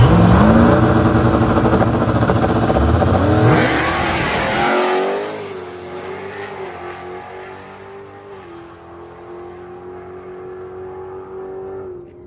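A bolt-on sixth-generation race car roars at full throttle on a drag strip, loud and close, rising in pitch through its gears before the sound drops sharply and fades into a distant, steady engine drone.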